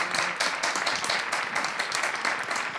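A television studio audience applauds a singer with dense, steady clapping throughout, close and lively with no voices over it.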